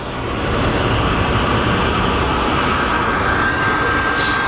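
An airplane engine roars loudly and steadily at Phoenix Sky Harbor Airport, a continuous broad rushing drone that swells at the start and holds, with a faint whine riding on top.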